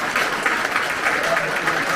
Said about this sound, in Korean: 이런데 박수 한번 쳐요.